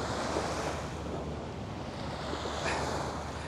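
Waves wash onto the beach at Pattaya in a continuous soft roar of surf, with gusty wind buffeting the microphone, fairly faint and with no voices.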